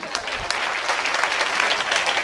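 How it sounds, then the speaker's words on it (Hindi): Audience applause at a Hindi comedy show, a dense, steady wash of many hands clapping at fairly close range, holding strong for a couple of seconds without a voice over it. "तालियां जोरदार बजना चाहिए।"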